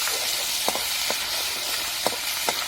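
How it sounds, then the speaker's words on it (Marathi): Ground black masala frying in hot oil in a wok, giving a constant loud sizzle with a few soft taps of a spoon stirring through it. "त्यामध्ये थोडासा काळा मसाला आपण जे वाटून घेतलेला आहे का ते थोडासा तळून घ्यायचा आहे"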